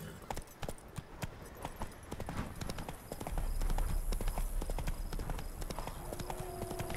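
Horse hooves clip-clopping steadily during a ride in The Witcher 3, a continuous rhythmic trot up close, with game ambience and a low rumble building in the second half.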